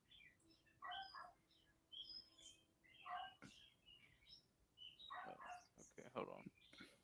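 Faint birds chirp and tweet in scattered bursts in the background, with quiet talking mixed in.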